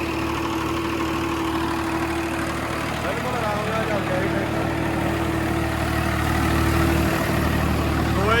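Sawraj 969 tractor engine running steadily with a 9 ft rotavator attached, a continuous low diesel drone and a sustained hum held at a near, even level throughout, with a faint voice briefly underneath.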